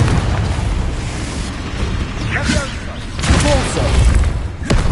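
Spell explosions from the Confringo charm in Hogwarts Legacy burst out as a few booming blasts over a steady rumbling game backdrop, with a voice heard alongside.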